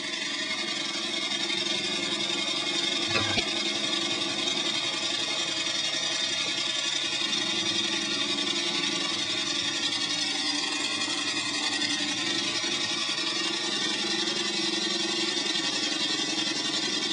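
A magnet pump motor set to about one hertz hums steadily and evenly for the whole stretch, a low continuous mechanical drone with a single brief thump near the start and no voices.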